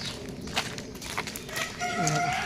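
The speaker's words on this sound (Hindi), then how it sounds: "अभी मुर्गा चिल्ला रहा है कुकड़ू" A rooster crows in a rural Indian home setting, heard at moderate distance over steady background ambience, a drawn-out call rising near the end.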